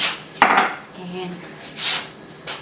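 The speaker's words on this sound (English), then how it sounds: "stir it and let it boil it and cover." A spoon stirs Mexican rice simmering with chicken broth and water in a cooking pot, giving one sharp clink against the metal followed by soft scraping and swishing strokes, close and moderately loud.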